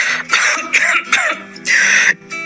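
Several harsh, throaty coughs in quick uneven bursts, close and loud, with a short gap before a final longer hacking cough.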